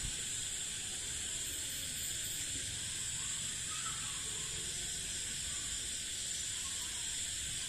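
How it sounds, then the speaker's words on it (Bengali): Crickets and other insects call at night in a village, a continuous high, dense shrilling drone that stays steady and moderately faint throughout with no talk. "চারপাশে অনেক শব্দ হচ্ছে, ঝিঝি পোকা বা অন্যান্য পোকা ডাকছে"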